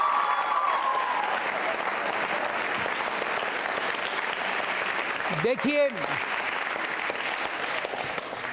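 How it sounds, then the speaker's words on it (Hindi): Sustained applause from a school audience filling the hall throughout, loud and steady, with a brief spoken word partway through. "तालियां बजाओ संकल्प के लिए"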